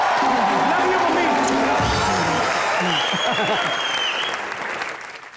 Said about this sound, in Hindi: मेरी माँ के लिए एक बार जोरदार तालियां